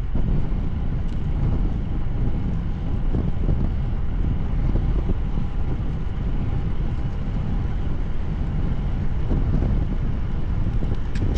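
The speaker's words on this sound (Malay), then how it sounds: "Alhamdulillah angin kuat betul lah. Crosswind sekarang ni daripada kanan." A strong crosswind from the right roars steadily against the microphone, a loud, continuous buffeting rumble with no breaks throughout.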